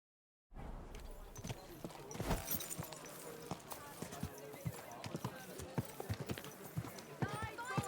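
Horse hooves clip-clop steadily in Kingdom Come: Deliverance II, a close, even trotting rhythm that begins after a brief silence, with a voice talking over it now and then.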